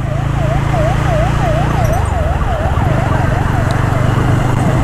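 A wailing siren rises and falls steadily over loud traffic rumble and engine noise, an ambulance passing close by a motorcycle on a monsoon ride.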